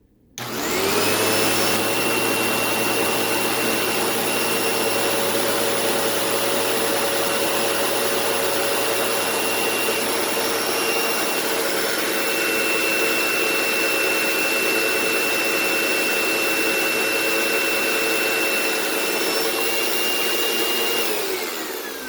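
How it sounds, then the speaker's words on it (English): A Sebo Automatic X5 upright vacuum cleaner runs without its brush roller, a loud continuous motor drone with steady whine that starts abruptly and holds unchanged for over twenty seconds, no talking. "No brush roller, just the gear itself. Let's see what that does."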